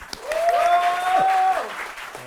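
Applause from a comedy show audience, a steady wash of clapping for about a second and a half, with a sustained tone briefly riding over it before fading.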